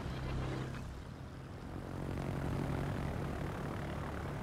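Aircraft engine boost in World of Warships, heard as a steady, loud propeller-engine drone that swells slightly partway through, with no voices over it.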